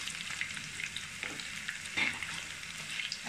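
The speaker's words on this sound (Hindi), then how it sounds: "काजू को भी इसी में मैं फ्राई करती हूँ।" Cashews fry in hot oil in a pan for matar pulao, with a steady, close sizzle and occasional stirring scrapes.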